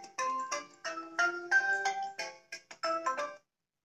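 A mobile phone ringtone for an incoming call plays a bright, repeating melody of electronic notes, clear and alone, before cutting off into silence.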